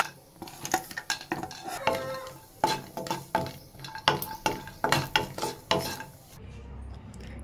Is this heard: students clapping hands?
no